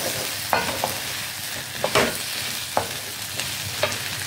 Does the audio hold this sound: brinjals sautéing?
yes